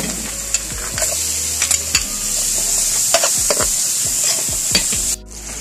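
Garlic and onion sizzle steadily in melted margarine for spicy chicken adobo cooked outdoors, a loud continuous frying hiss with scraping stirs throughout, cutting off abruptly near the end.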